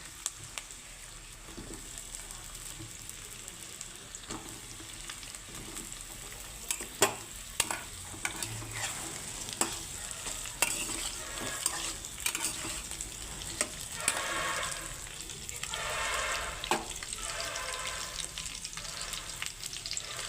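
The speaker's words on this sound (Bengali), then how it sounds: "আলুগুলোও সামান্য ভেজে নেব পেঁয়াজের সঙ্গে" Potatoes fry with onions in a pan, giving a soft, steady sizzle broken by scraping stirs and sharp clicks of a utensil against the pan, with the frying growing brighter near the end.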